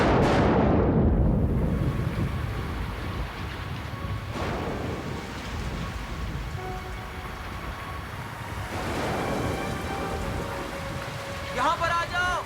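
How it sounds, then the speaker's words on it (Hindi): Steady heavy rain pours as a constant broadband wash, loud and close, with voices talking over it and a few brief thumps and rattles. "यहाँ पर बारिश से बच सकते हैं।"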